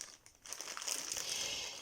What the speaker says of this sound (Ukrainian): ось дивіться ще верхній пакет, і кожен з них ще запакований по пакетику